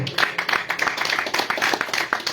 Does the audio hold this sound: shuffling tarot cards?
no